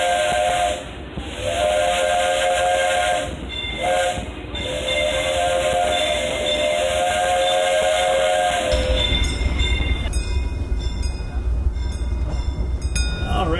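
The steam whistle of Disneyland Railroad locomotive Fred Gurley No. 3 sounds in several loud, close blasts with short breaks between them, followed by hissing steam and rolling train noise.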